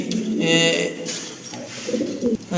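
A pair of English pouter pigeons coo in deep, soft, throaty rolls at close range while someone talks over them.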